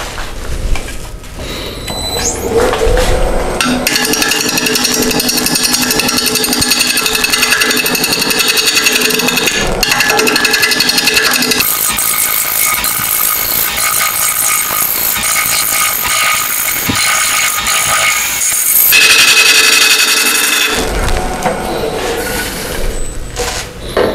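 On a woodturning lathe, a hollow form is cut to take a tenon, giving loud, continuous scraping and grinding with a steady motor hum, broken by brief pauses where the tool leaves the wood.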